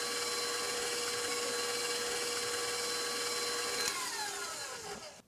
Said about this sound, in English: First, the egg yolk to be whipped with the granulated sugar.